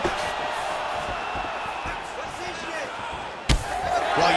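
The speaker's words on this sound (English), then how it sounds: "you hear that crowd reaction every time he gets battered to the body" An arena crowd in the EA Sports UFC 5 video game, roaring and swelling around body shots. A steady din carries under commentary, with a sharp impact near the end.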